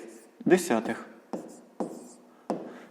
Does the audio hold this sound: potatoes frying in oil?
no